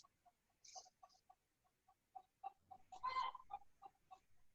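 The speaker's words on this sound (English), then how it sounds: "I apologize if you start to hear chickens." Two backyard hens cluck in a loose series of short, soft notes, faint and distant, with a slightly louder flurry partway through.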